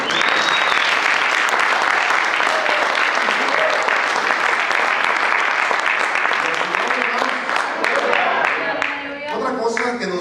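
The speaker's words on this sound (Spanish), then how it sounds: "Damos palmas a Él." A church congregation applauds in praise, a dense, loud, sustained wash of many hands clapping that holds steady for about nine seconds before thinning, with voices rising at the end.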